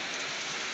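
Heavy rain pours steadily over farmland in Cavinte, a dense, even hiss of drops hitting surfaces close by, with no voices over it.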